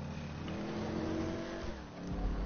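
A car engine in a GTA 5 driving game hums and revs steadily at low volume, with a brief dip near the end before it picks up again, and no talk over it.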